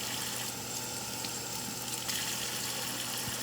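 Steady rush of tap water running over raw chicken thighs as they are rinsed in a kitchen sink, loud and continuous without pause.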